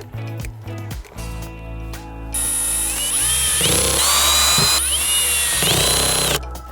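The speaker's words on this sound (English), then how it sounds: "Secure the grille to the wall using the 4 screws in the package." A power drill drives screws to fix a VILPE Wive exterior vent grille to a wall, starting with short bursts and clicks, then a loud sustained whine that rises and stops close by.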